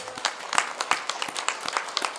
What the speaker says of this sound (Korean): 영광의 박수를 보내겠습니다.